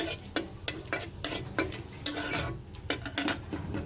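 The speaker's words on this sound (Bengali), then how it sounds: "জিরেটা ভাজা হয়ে গিয়েছে।" Whole cumin seeds frying in oil in a pan, a steady close sizzle broken by repeated sharp scrapes and taps of a spoon stirring against the metal.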